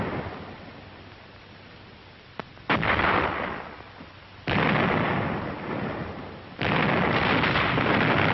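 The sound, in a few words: artillery and mortar fire in 1945 war film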